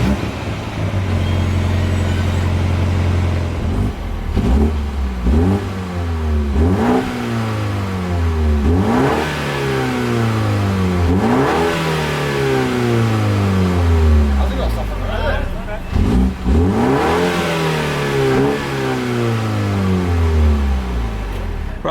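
A 2021 BMW 128ti engine starts and then revs repeatedly, loud and close, with rising and falling sweeps as the throttle is blipped several times toward the limiter.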